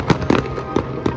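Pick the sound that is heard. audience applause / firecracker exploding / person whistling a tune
firecracker exploding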